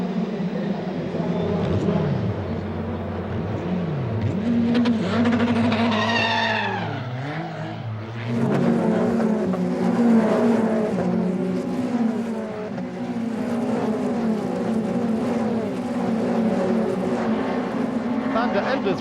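A Williams BMW Formula 1 car screams past with high, sweeping engine tones and a tire skid, while another roar takes over afterwards, all under a commentator's voice.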